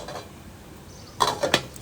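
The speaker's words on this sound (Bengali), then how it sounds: "এখন আমি চাল দিয়ে দিচ্ছি, নেড়ে চেড়ে নিচ্ছি।" Washed rice is stirred in a cooking pot: a quiet stretch, then a few close, sharp scraping and clinking knocks of a utensil against the pot near the end.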